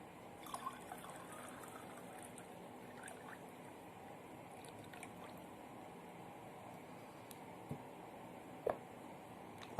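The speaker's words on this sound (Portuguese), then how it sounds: "se adicionar álcool etílico, ele se mistura infinitamente à água" Ethyl alcohol poured into salt water in a small chemistry demonstration gives a faint, steady liquid trickle under low background hiss, with a few soft clinks and drips near the end.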